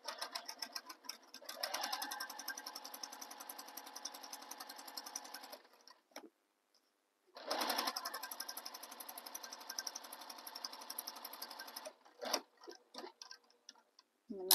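A sewing machine stitches the corner of a tote bag in rapid, even bursts of mechanical clatter, stopping for a moment at the pivot before resuming, then a few short stitches and a pause, close and alone.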